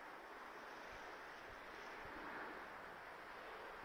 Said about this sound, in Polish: Dzisiaj silny wiatr.